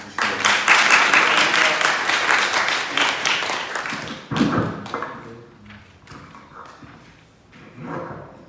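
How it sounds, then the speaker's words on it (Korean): Audience applause welcoming a lecturer at a public talk on nuclear safety, a burst of clapping for about four seconds that breaks off abruptly, followed by scattered thumps and quieter handling noises. "우리 큰 박수로 이 교수님 환영해 주시기"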